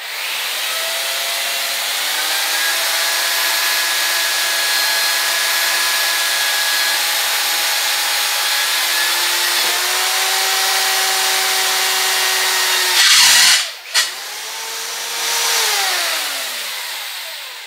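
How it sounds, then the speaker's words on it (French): A drill bit bores through a wooden broom handle, its steady whine holding for about thirteen seconds, then a sharp burst and stop as the bit breaks through, followed by a brief second whir that winds down. "je mets la mèche dans le premier trou que j'ai fait."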